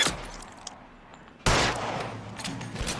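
Gunfire in the video game L.A. Noire: a sharp burst of shots breaks out after a quiet moment, loud and close, followed by further rattling rounds.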